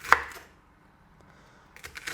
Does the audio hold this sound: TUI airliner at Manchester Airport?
no